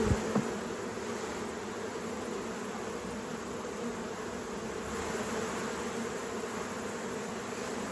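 A dense, steady hum of honeybees buzzing around an open hive during queen rearing, a continuous drone close to the listener with no voices, a couple of brief knocks at the very start.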